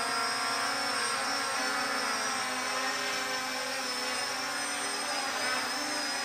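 A brushless-motor drone hovers indoors on its maiden flight, its steady high-pitched propeller whir running continuously and fairly loud with no break or pause.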